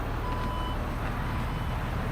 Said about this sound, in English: Tailgate does the rest of the work for you.